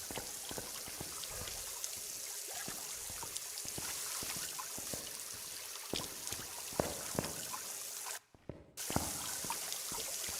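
Running faucet water in the Phasmophobia horror game makes a steady, faint splashing hiss with scattered drips, continuous throughout apart from one brief cut, with no talking.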